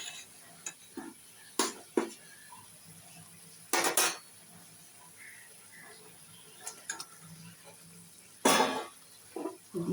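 Katla fish pieces go into a spice mixture in a pan, with sharp, sporadic clinks and scrapes of a utensil against metal and quiet stretches in between.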